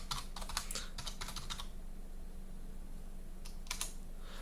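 Bursts of quick, crisp keystrokes on a computer keyboard, two separate runs of typing with a pause between, close and clear over a low steady hum.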